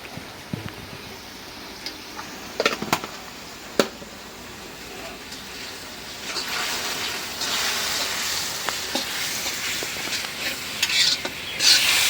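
In a pan, spice masala made with chili powder and cumin powder is sautéed and stirred. A few sharp scrapes come first, then a steady, building sizzle that sounds close.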